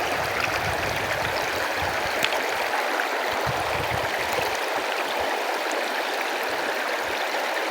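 A river stream flows steadily with a constant close rush and gurgle, loud and unbroken, with no talk.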